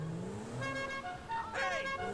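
A car in the video game GTA V, its engine humming and rising in pitch, with a brief horn-like tonal burst near the end, heard fairly close and steady throughout.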